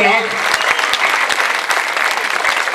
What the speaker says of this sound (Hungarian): Hát akkor nagy tapsot a polgármester úrnak